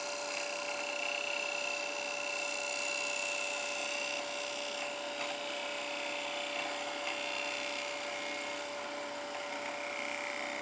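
Wood lathe with a bowl gouge cutting the end grain of a bowl, taking a light pass: continuous close whirring cut with a steady tonal hum and scraping texture throughout, no talking.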